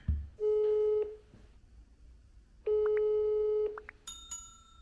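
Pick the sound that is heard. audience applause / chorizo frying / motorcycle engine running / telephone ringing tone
telephone ringing tone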